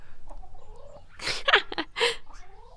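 A hen named Demeter clucks and squawks in a short burst of loud, close calls, with softer murmuring before and after.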